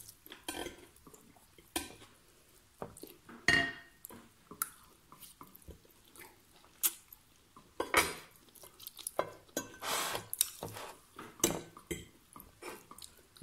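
A utensil scrapes and clatters against a pan while leftover rice is stirred in, irregular close clinks and scrapes spread across the whole stretch, no talking.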